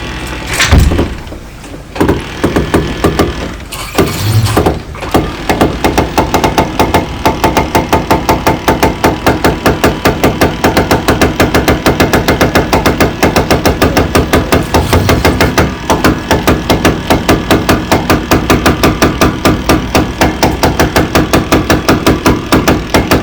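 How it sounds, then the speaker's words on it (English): An electric winch hauls a dinghy engine up on the davits of a Lagoon 450 catamaran, a loud, close, rapidly ticking mechanical whir running steadily after a few bumps and clunks at the start. "Put the davit line that is lifting the engine onto the electric winch, and you can control this with your foot."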